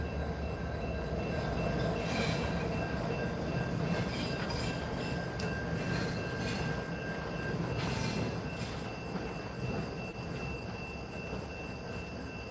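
A Norfolk Southern local freight passes at night in Dalton, Georgia, a loud, close, continuous rumble of rolling cars with wheel squeals and rhythmic clacks that gradually eases toward the end.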